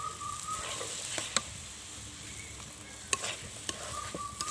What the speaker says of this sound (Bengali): আলুটা আমি একটু কষিয়ে নেব।